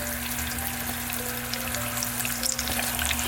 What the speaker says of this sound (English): now that our oil is simmering, I'm gonna add in about 1/4 cup of honey